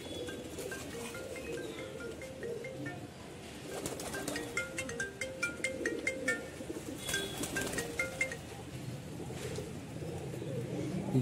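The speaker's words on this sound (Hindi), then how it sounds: "ये कबूतर है भाई" A captured cross-breed pigeon and others coo in low, throaty murmurs close by, mixed with occasional high chirps over a constant background hum.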